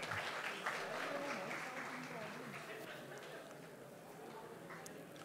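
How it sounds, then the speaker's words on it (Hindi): Applause from the audience for a prize winner at a film music launch event, a dense, fairly distant clapping wash that slowly fades, with voices murmuring underneath. "उनके लिए जोरदार तालियां"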